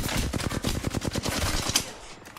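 Rapid automatic gunfire in the shooter game Vulse, a dense run of loud, sharp bursts in quick succession that tapers off at the end.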